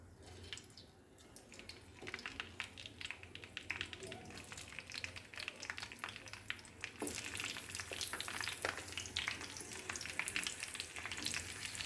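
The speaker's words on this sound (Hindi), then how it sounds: "देखिए फ्रेंड ये मिर्चियाँ फ्राई हो रही है, इसे अच्छे से फ्राई कर लेना है।" Green chillies fry in hot oil with a continuous crackling sizzle that grows louder and brighter partway through, scattered pops and stirring clatter, someone talking faintly at moments.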